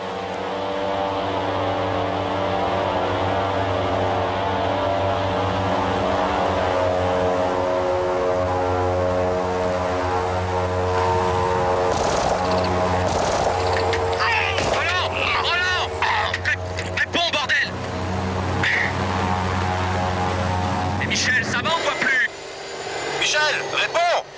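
Propeller airplane engine in flight, a loud, continuous droning hum with steady harmonic tones, rising into rougher surges and sharp bursts toward the end, with voices talking over it.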